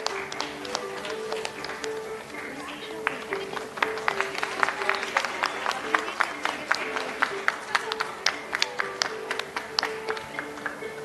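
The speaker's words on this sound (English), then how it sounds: "A round of applause for the sir." Audience applause at a national palliative care workshop, a steady crowd of clapping hands with sharp individual claps standing out, sustained for the whole stretch at moderate level in an indoor hall.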